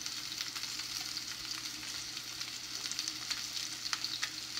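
Salmon frying in a hot non-stick pan, a steady, fairly quiet hiss of sizzling oil with faint crackles throughout, even and uninterrupted.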